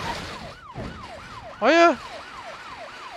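An emergency vehicle siren in the BeamNG driving game keeps wailing in a steady rising-and-falling cycle after a crash, with a brief louder electronic burst midway and a short spoken word over it.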